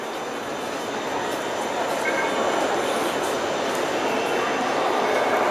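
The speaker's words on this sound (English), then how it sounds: "this is the train station" Inside a train station in Kiev, Ukraine: a steady, broad rumble of rail traffic and station hum fills the space continuously, with no distinct events standing out.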